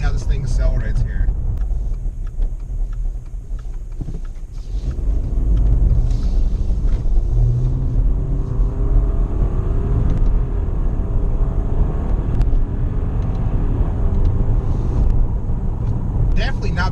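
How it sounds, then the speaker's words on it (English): A 2018 Subaru Outback Premium with 175 horsepower, heard from inside the cabin as it accelerates on the road, giving a steady loud engine and road rumble that swells midway and holds on. "let's go ahead and do some little acceleration to see how this thing accelerates here."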